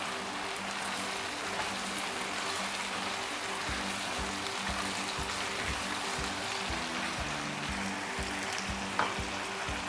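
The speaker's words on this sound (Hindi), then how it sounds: "ज़ीरा शामिल करते हैं, इसको हल्का सा भून लेते हैं।" Cumin seeds sizzle and roast in oil in a karahi for restaurant-style Lahori chicken karahi, giving a steady, soft frying crackle with faint stirring clinks throughout, fairly quiet and close.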